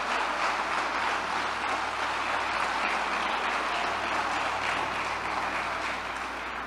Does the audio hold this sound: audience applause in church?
yes